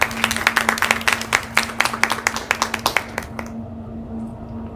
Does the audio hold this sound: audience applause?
yes